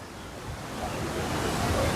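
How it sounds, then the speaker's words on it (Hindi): The Lakshman Ganga river rushes like a waterfall along a Himalayan trek route, giving a steady, dense roar of churning water that fills the short stretch without a break and swells slightly toward the end. "मेरे पीछे लक्ष्मण गंगा है, और लक्ष्मण गंगा इस समय बिल्कुल एक झरने के स्वरूप में है।"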